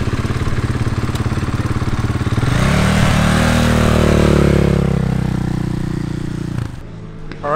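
A motorcycle engine on a race track, including a smaller, less powerful bike running among faster ones, drones loudly close by, then rises in pitch as it passes and fades off.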